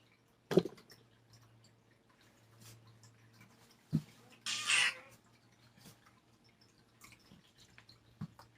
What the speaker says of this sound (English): This is what meowed.